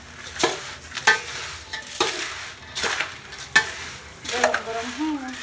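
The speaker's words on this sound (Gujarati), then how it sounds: "તો આવી રીતના કાંક હલાવીને ભેગું કરી નાખ, બધું મિક્સ કરી નાખવાનું." A spoon stirs a warm puffed rice ladoo mixture in a pan, giving rhythmic scraping strokes roughly once a second, with a voice briefly speaking near the end.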